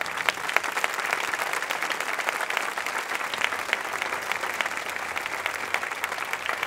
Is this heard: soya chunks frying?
no